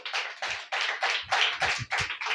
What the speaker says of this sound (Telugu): చప్పట్లు కొట్టండి ఒకసారి గట్టి.